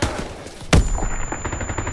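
A sharp, loud gunshot bursts out of Call of Duty WWII, followed by a dense patter of distant rapid gunfire and battle noise over the next second.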